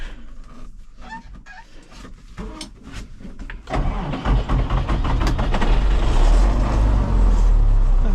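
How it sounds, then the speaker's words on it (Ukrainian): Clicks and mechanical rattles precede a tractor engine cranking and catching, then a loud diesel rumble settles into a steady, growing roar. "Так, заводимо трактор."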